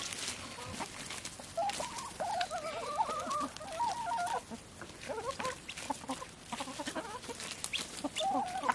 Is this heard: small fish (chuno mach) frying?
no